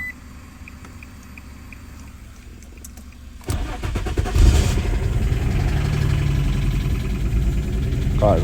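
A 2003 Infiniti G35 engine cranks and catches after a quiet stretch, then settles into a loud, steady idle with a brief rev, close by.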